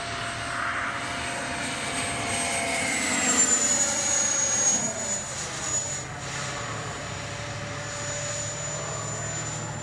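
Kavan Skyfox L-39 80mm electric ducted-fan RC jet making a pass, a steady whooshing whine with a high tone that rises and sweeps as it flies by, moderately loud over outdoor ambience.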